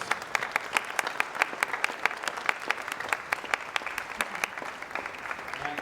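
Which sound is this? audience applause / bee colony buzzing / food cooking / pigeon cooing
audience applause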